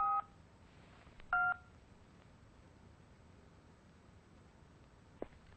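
A telephone number is dialed on a keypad: a short burst of dialing tones, a second burst about a second later, then near silence broken by a single faint click.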